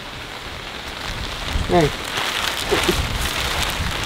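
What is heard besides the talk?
rain falling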